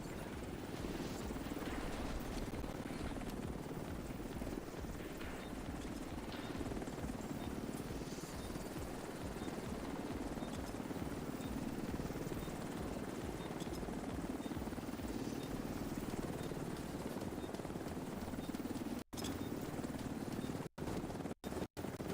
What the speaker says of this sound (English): Helo is on site.